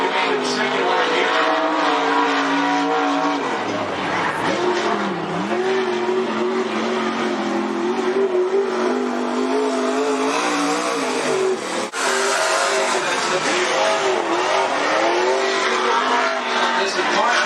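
Late model race cars lap Cottage Grove Speedway, engines roaring continuously and loudly with pitch rising and falling as cars pass, over an announcer's voice talking throughout.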